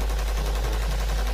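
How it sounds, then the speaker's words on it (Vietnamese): An M4A1 rifle fires real rounds in a fast, continuous burst that is loud, harsh and distorted throughout the brief moment. "Ok chúng ta đến với cây súng M4A1."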